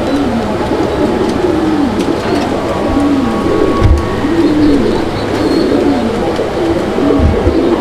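A male fancy pigeon coos in repeated rolling, swooping calls, one every second or so, close up. A faint background hum and rustle sit underneath.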